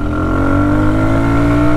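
Shineray Worker Cross 150 motorcycle engine pulling steadily in third gear on a highway, a loud, close, continuous drone with a rising pitch as it accelerates, no talk over it.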